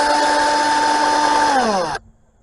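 A power tool whirs steadily on the bolts of a 2013 Dodge Journey oil filter housing, then spins down and cuts off abruptly, close and loud.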